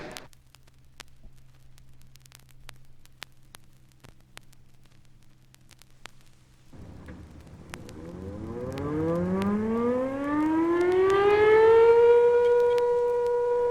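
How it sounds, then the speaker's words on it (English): Lackland Air Force Base 7:30 work siren in Texas, a civil defense siren that starts after a quiet hum and winds up in rising, loud sweeping tones, heard alone. "Lackland's 7:30 work siren begins the duty day for the base personnel."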